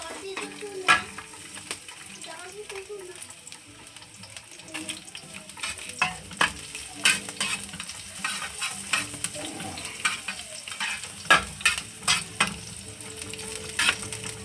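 Garlic sautéing in a pan, a continuous close sizzle broken by frequent clacks and scrapes of a spatula stirring, fairly loud throughout with no voice.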